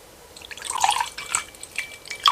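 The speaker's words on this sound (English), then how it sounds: "The noise of just pouring that into the glass there," Ricky Gervais' clear vodka poured into a fancy glass, making a faint, light trickle with small glassy splashes and drips over about two seconds.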